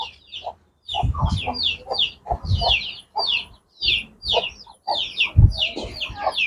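Chickens, including chicks, cluck and chatter in rapid, uneven bursts close by, several birds overlapping, with brief pauses between clusters of calls.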